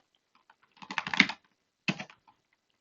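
A terminal command is typed on a computer keyboard in two quick bursts of close, crisp key clicks with a short pause between them, in an otherwise quiet room.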